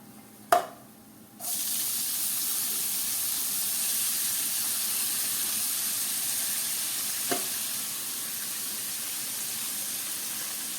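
Fresh spinach hits hot tempering oil with spices and sesame seeds and sets off a loud, steady sizzle that holds unbroken to the end, with a couple of small knocks from the pan and no talking.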